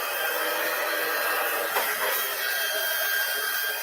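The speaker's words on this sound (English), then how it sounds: "So I'm going to turn my heat tool on here. It's going to make some noise." An embossing heat tool blows with a steady, breathy whoosh like a hair dryer, constant and close throughout.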